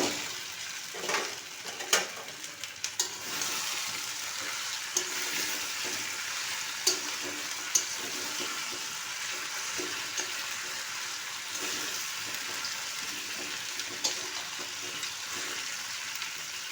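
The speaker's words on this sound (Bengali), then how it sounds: "মাছের মাথাগুলো দিয়ে কিছুক্ষণ নাড়াচাড়া করে নিন।" Fried katla fish heads being turned in thick spice paste in a pan, a steady soft sizzle with scattered scraping clicks of the spatula, close and alone with no talking.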